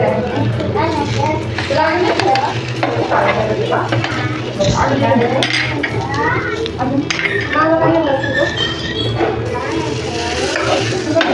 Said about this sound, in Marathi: आपण मस्त गरम करून घेणार आहे तव्यावर गॅस मोठा करून